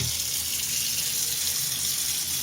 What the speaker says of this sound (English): let me start the demonstration by turning on the water.